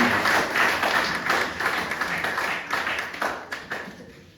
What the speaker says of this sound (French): Si tu comprends, donne un applaudissement aussi.